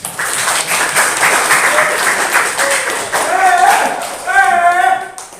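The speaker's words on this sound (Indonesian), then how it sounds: "Kita kasih tepuk semangat" Classroom students clap together as encouragement, a steady burst of applause lasting several seconds with voices chattering over and around it.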